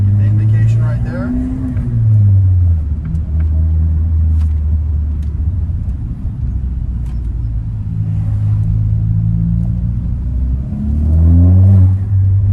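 The engine of a 2015 Ford Focus ST accelerates on the road, its loud droning note climbing in pitch, dropping at a gear change, then rising again, with a voice talking over the engine.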